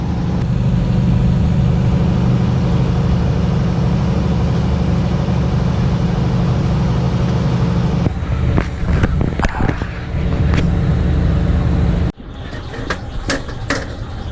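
A carnival generator rumbles steadily and loudly with a vehicle engine droning beneath it, heard while riding in the back. Brief rattles and clunks come near the end as the sound shifts.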